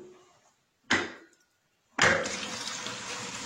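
Water runs into a newly installed wall-hung hand basin: a brief splash, a short pause, then a strong, steady gush of running water filling the bowl close by.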